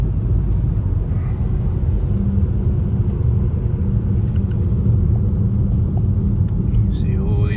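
Dense city traffic rolls past in central Moscow near the Kremlin, a steady low rumble of car engines and tyres throughout, with occasional faint higher whines overhead.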